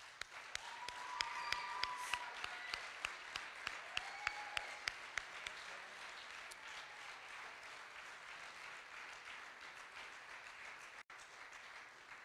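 Church audience applauding together, a steady crowd of clapping hands heard at a distance, loudest in the first few seconds, then fading to a softer, thinning patter.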